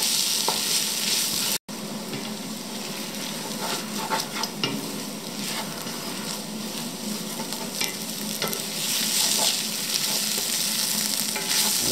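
Onions cook and brown in a pot for onion soup, giving a constant crackling sizzle, with occasional scrapes and stirring noises and one brief dropout early on.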